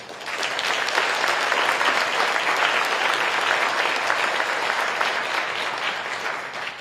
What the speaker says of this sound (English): I would like us all to please give MOFOR Taiwan a round of applause.